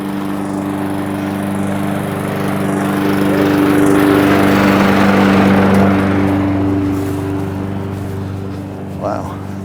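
Lawn mower running over dry, nearly grassless dirt, a steady close engine drone that swells and eases over about ten seconds, loud and continuous.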